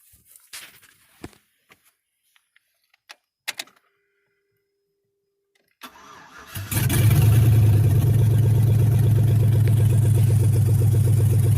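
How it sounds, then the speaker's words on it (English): After a few quiet clicks and taps, the LS-swapped Jeep Grand Wagoneer engine cranks briefly, fires and settles into a loud, steady idle close by, with no voices. "we're going to crank it up and make sure everything is good to go"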